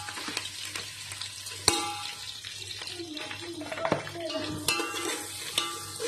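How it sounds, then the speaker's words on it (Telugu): Green chillies and sliced onions frying in a pan, giving a gentle continuous sizzle with close stirring scrapes and occasional louder utensil knocks. "ఒక 2 నిమిషాలు ఫ్రై చేసుకుంటే సరిపోతుంది ఆనియన్స్"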